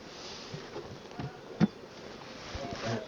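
Honeybees buzz inside a hive during an artificial swarm check, a soft, continuous insect hum with occasional louder passes close by and a brief knock.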